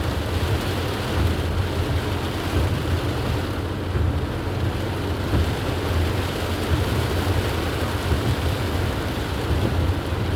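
Heavy rain pours steadily with a broad roar, and low rumbles that may be thunder roll beneath it throughout, with no voices.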